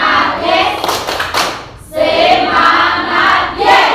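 Classroom of students clapping a rhythmic class clap chant in bursts, loud and close, with voices shouting along and a short pause between rounds.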